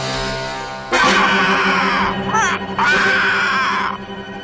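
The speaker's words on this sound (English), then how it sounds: "The villain, Owen the Terrible, has one annoying yell." The villain in the 1976 animated TV special Rudolph's Shiny New Year lets out a loud, strained, wailing yell over a music backing, in two sustained bursts with wavering pitch.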